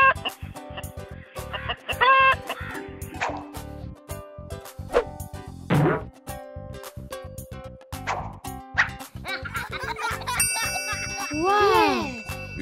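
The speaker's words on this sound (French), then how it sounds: "Une poule." A hen clucks a few times amid a busy, cluttered mix of short sharp clicks, chirpy animal calls and bright bell-like tones.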